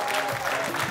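Brief burst of audience applause, dense overlapping clapping close by that fills the whole second, mixed with light crowd murmur.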